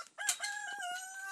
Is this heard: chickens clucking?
yes